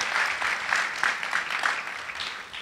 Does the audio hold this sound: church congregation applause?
yes